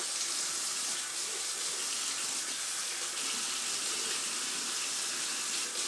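Kitchen tap water runs steadily over a knife being rinsed, a continuous bright hissing splash at even loudness with no talk.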